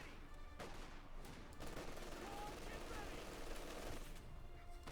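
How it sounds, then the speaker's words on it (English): Light machine guns fire in a Company of Heroes 2 battle, a steady crackling rattle of automatic fire spread through dense battlefield noise. It runs continuously at moderate volume, with no clear talking over it. "Loads of light machine gun fire here."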